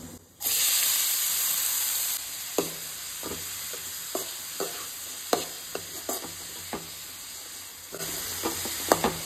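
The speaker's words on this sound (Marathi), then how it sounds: "हांगासर हो बारीक चॉप करून घेतलेलो कांदो जो आसा पळय तो घालून घेता" Finely chopped onion frying in hot oil with cumin for a Goan dry shrimp dish, giving a steady loud sizzle that starts abruptly, with intermittent clinks and stirring knocks from a spoon in the pan.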